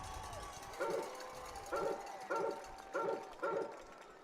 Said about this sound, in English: I'm already getting sick of hearing that dog bark